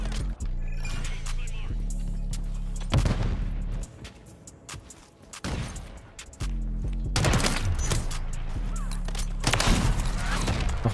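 Sniper rifle shots ring out in an online shooter game, a few loud separate cracks spaced seconds apart over steady background noise, with players talking in between.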